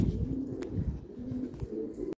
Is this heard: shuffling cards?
no